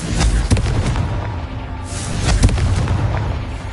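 Deep booming blast of a Confringo explosion spell in the video game Hogwarts Legacy, a dense, loud rumble with layered bursts and sustained low roar throughout.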